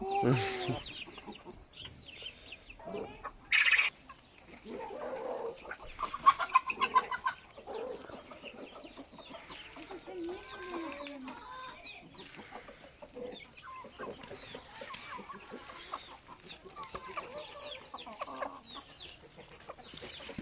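Chickens cluck on and off throughout a backyard coop, with one brief louder squawk early on; the calls are at mid distance over steady farmyard background.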